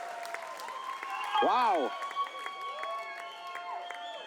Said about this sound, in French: la foule est en liesse